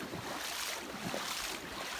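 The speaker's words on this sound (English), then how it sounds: "That's us trying to walk through the water." People wade through a stream, the burn's water sloshing and rushing in a continuous broad wash with wind noise on the microphone and no voices.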